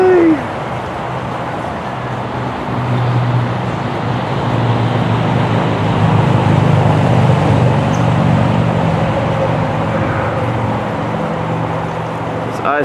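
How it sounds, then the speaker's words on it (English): Steady roadway traffic from Interstate 75 rolls past behind an otter habitat at a Florida zoo, a continuous low rumble and wash of passing cars that stays fairly loud throughout without clear breaks. "It's I-75 right behind this habitat. That's the traffic that you hear."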